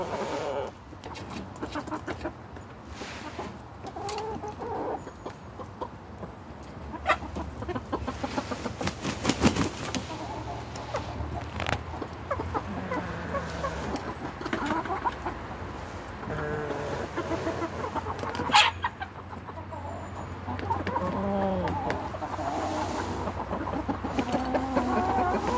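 Several Araucana chickens and a few roosters cluck steadily through an outdoor farmyard scene on a dry, overcast day, with occasional louder calls and brief wing flaps mixed into the continuous flock chatter.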